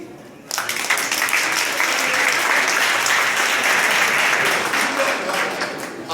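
Audience clapping breaks out at a political speech, rising suddenly after a brief lull and holding as steady, dense applause from a large crowd for several seconds before easing slightly.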